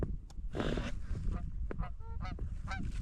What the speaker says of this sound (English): It's a good looking goose.